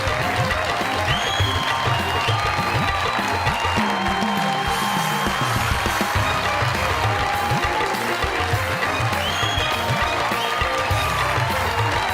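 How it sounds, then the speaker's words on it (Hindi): An audience at a stage entry show applauds steadily, a dense, continuous wash of clapping and crowd noise that stays loud from start to finish, with faint voices mixed in. "आप लोगों की जोरदार तालियों में"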